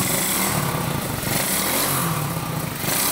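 A motorized rat rod bicycle's small engine runs rough and won't settle into an idle, buzzing steadily and loudly up close with an uneven, sputtering tone.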